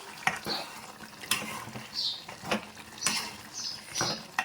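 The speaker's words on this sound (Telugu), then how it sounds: "ఇప్పుడు మనము మామిడి ముక్కలు వేసుకొని వాటర్ పోసేసుకున్నామండి." Water is poured into a pot of mutton curry with mango pieces, heard as a series of uneven splashes and gurgles with brief pot clinks, fairly close and without speech.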